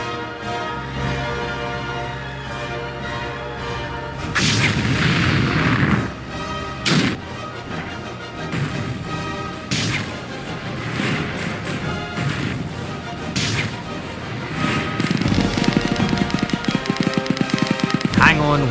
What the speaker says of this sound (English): if you fire two torpedoes with the heavy bomber